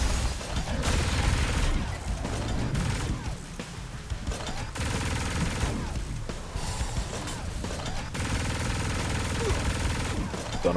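Rapid gunfire in Saints Row IV, dense bursts of shots and clattering impacts continuing throughout the game scene.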